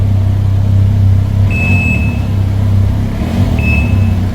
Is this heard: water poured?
no